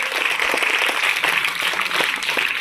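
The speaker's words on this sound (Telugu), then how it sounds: "అందరూ ఒకసారి గట్టి క్లాప్స్ కొట్టండి" A crowd of students at a school assembly for a Constitution Day celebration claps loudly and steadily in a dense, continuous burst of applause.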